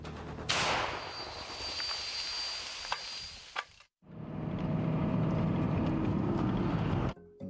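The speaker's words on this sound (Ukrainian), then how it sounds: "Постріл!" A sharp, loud artillery shot cracks out near the start in eastern Ukraine, followed by a long rushing roar and a second burst of noisy rumble; no talking.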